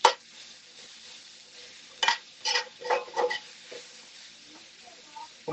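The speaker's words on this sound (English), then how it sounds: "get the vegetables all mixed in with those seasonings" Vegetables stirred with seasonings in a pan, a spoon scraping and clattering against the pan in several irregular bursts over a faint background sizzle, with no talking.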